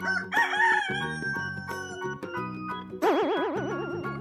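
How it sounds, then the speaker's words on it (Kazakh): A rooster crows in a long, loud cock-a-doodle-doo near the microphone, layered over a bright melodic children's music backing that runs throughout. "Әтеш."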